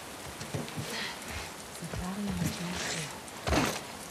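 Rain pattering on surfaces in the dark outdoor level of the video game The Last of Us Part 2, a soft steady hiss with a few louder drop impacts and faint thuds, heard without speech.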